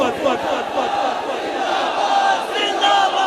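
A large crowd roars a religious Khatm-e-Nabuwwat slogan in unison, loud and sustained, with many voices blending into one continuous chant.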